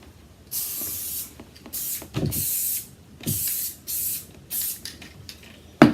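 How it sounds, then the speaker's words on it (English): Several short bursts of aerosol spray adhesive hiss in quick succession onto a drawer being lined with fabric, each lasting about a second with brief pauses between. "spray about 3 inches of adhesive"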